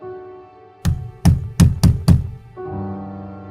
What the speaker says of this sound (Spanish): entonces se volvieron a oír 3 toques